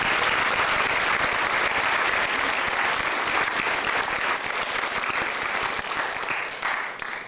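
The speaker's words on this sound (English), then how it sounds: "Can you please give another round of applause" An audience at a community event gives a loud, continuous round of applause, a thick wash of clapping that holds for about seven seconds before easing slightly.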